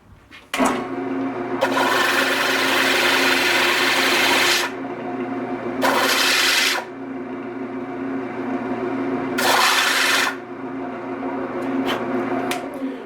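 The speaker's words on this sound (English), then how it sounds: "So I just sand it down as square as I can using my sander." An electric sander squares a wooden key ring blank, a steady motor hum with several loud bursts of abrasive grinding, each a few seconds long, as the wood is pressed against it.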